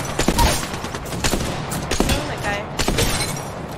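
Rapid automatic gunfire from Apex Legends crackles in repeated bursts throughout, sharp shots layered over constant game noise while a player talks over it.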